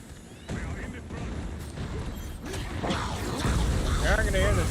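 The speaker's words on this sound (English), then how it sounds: "Pillar being destroyed." Destruction of a pillar in the Marvel Rivals hero shooter during an open tournament match: crunching, clattering mechanical debris and impacts building in loudness, mixed with game effects and voices underneath.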